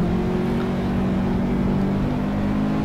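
Racing cars overtaking in the sim racing game Assetto Corsa Competizione: a loud, steady engine drone with a sustained tonal whine holds throughout the few seconds, close and continuous, with no talking.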